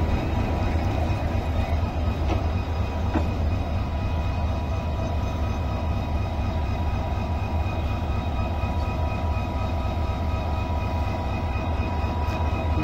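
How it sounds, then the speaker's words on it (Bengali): Local train number 253 sits at Tarakandi railway station, its engine and carriages giving a steady low rumble with no letup, heard from nearby. "দুশো 53 নম্বর ট্রেনটা দাঁড়ালো এখানে, লোকাল ট্রেন।"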